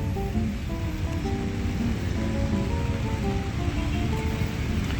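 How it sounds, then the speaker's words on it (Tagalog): Heavy rain pours down at the Intramuros golf course in Manila. It makes a dense, steady wash of hiss and patter that holds at a constant loud level throughout, with faint tonal sounds beneath it. "lumakas pa lalo yung ulan"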